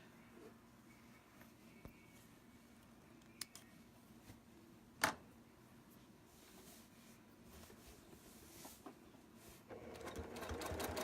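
A sewing machine stitches through fabric at a quiet, steady hum, broken by a few sharp clicks and a brief louder whir near the middle, growing slightly busier toward the end.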